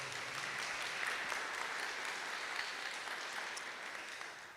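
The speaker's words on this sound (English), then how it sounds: "Big hand, a round of applause for them." Audience applause welcoming the moderators at an internationalization strategy conference, a steady wash of many hands clapping at modest volume that holds evenly before tapering off toward the end.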